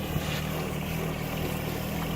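A 1023E backhoe's engine drones steadily and loudly while driving around a house on a cold winter day, a continuous rumble with no talking.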